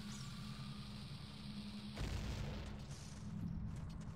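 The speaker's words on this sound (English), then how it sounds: "Explosion." Bomb going off in The Legend of Zelda: Ocarina of Time, a single faint, sudden boom that cuts in over quiet game music and rumbles briefly.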